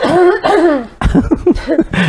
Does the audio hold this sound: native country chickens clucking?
no